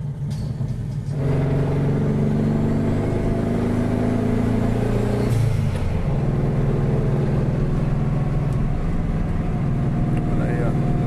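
A turbocharged 1996 Volkswagen Fusca Itamar engine runs loud and steady, its rumble holding with a slight change in pitch partway through as the motor warms up, with people talking over it.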